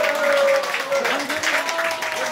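Hiking club members applaud their expedition leader at a mountain trail gathering, a loud burst of group clapping with voices and cheering mixed in over the whole stretch.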